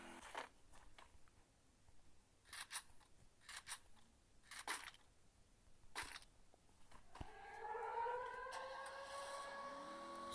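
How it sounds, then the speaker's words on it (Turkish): A siren wails in the latter part, its rising, sweeping tone ringing out after a few short rustling, clicking bursts. "Siren sesine bak"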